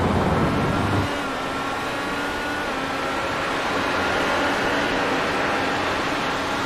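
A race car in a racing video game at Road America drones steadily with a shift in engine note near the start, then holds a continuous mid-pitched whine while the driver short shifts, with no talking.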